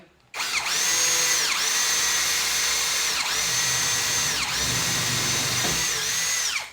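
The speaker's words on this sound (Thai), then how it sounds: "มาเดี๋ยวเรามาเริ่มเจาะกันเลยดีกว่านะครับ" A power drill boring a hole with a self-drilling screw tip, loud and close, running in several sustained bursts with brief dips in pitch between them and no talk.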